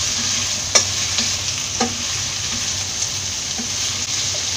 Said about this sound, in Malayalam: സവോളയും ക്യാരറ്റും പച്ചമുളകും എല്ലാം നന്നായിട്ട് വഴണ്ടി വന്നിട്ടുണ്ട്.